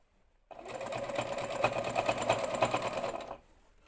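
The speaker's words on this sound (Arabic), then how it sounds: "بنيم بس الكسرات كده وبدوس، بدوس بالمكنه" A sewing machine runs steadily for about three seconds, stitching pleats on a child's skirt, with a close, even whirring hum and fast needle rhythm that starts and stops cleanly.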